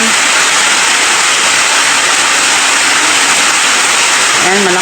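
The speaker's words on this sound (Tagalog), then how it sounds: "Ayan, malakas ang ulan." Heavy rain pours steadily as a dense, loud broadband hiss through the whole stretch, with a brief tonal sound near the end.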